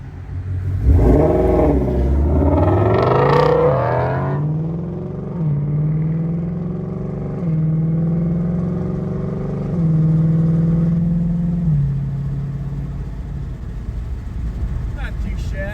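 Ford Mustang Shelby engine revving hard and accelerating, a sharp rising roar at first, then sustained engine drone through several gear changes with stepped pitch shifts, close and loud.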